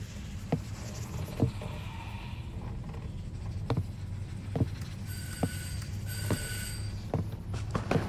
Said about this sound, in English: Stop ringing the doorbell!